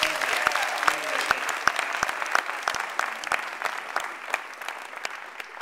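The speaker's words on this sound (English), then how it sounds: "So why don't you give Hector a big round of applause" Audience applause at a political party meeting: sustained, dense clapping from a room full of people, steady and fairly close for several seconds with no talk over it.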